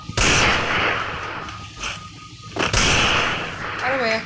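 Gunshots from the mobile shooter Free Fire, a few loud booming blasts with dense game noise between them, close and heavy.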